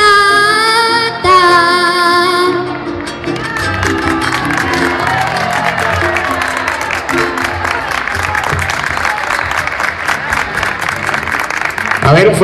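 Audience at a nursing event applauding after a man sings a romanza; a sustained singing note at the start gives way to broad, continuous clapping from a sizeable crowd, with voices murmuring underneath.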